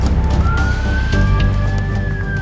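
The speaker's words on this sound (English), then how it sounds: "Pressed it and the sirens went off" A police siren wails with a slowly rising and falling tone over heavy low engine rumble, loud and close, with occasional knocks.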